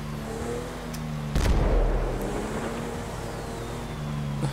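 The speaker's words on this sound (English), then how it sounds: "Sam252, show me responding to fireworks at Sandy Shores." A single loud burst of fireworks going off in the video game GTA V near Sandy Shores, a sharp crack with a rumbling tail over a steady droning vehicle engine, with no talking.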